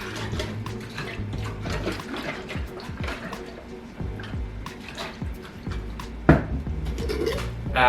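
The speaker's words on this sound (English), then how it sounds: "Just gonna shake up the water to make sure the salt gets dissolved-ish." Salted brine water for pickles sloshes in a container as it is shaken, a close, irregular splashing with some light knocks against the vessel and one sharper clunk near the end.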